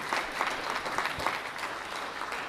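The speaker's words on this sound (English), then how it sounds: "Let's give ourselves a round of applause that we could be here together again." A crowd applauding steadily at a town business appreciation breakfast, many hands clapping at once in a dense, even wash of sound that holds for a couple of seconds.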